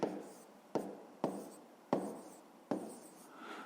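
Pen or pencil writing numbers on paper for a maths exercise, five separate scratchy strokes, each starting sharply and trailing off, close and quiet.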